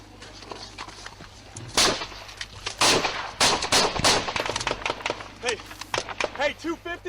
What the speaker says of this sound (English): I will just show you the firefights.